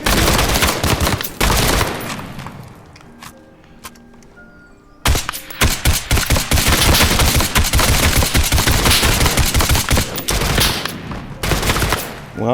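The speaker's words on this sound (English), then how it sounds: "or you could just use a gun" Rapid gunfire in the Geronimo VR video game: dense volleys of loud, sharp shots, a quieter gap of a few seconds, then another long burst of repeated shots.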